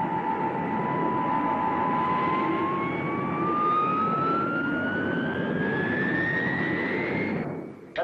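A jet aircraft takes off at Cranwell, its loud steady roar carrying a whine that rises in pitch as it speeds up, then cuts off abruptly near the end.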